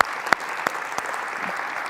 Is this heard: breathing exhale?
no